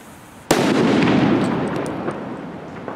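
A single loud firework bang in Valencia goes off suddenly and then crackles and rumbles away over a couple of seconds, close and with no talk.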